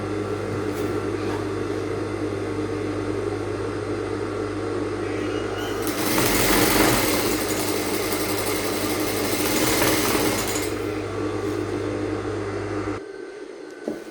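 A sewing machine stitching the neckline of an asymmetric blouse hums steadily and up close, growing louder and busier midway through a continuous run, then stops near the end.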